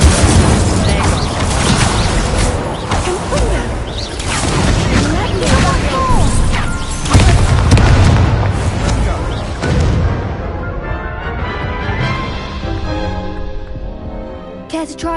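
Repeated Incendio fire spells cast in Hogwarts Legacy, loud bursting whooshes and crashing booms in a dense, continuous battle mix, with a voice speaking over the action.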